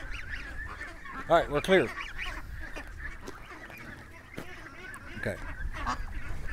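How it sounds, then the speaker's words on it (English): Ducks being herded at feeding time let out a brief burst of loud quacks and honks, then fainter calls continue; people talk nearby. "Come on, little ducks, move."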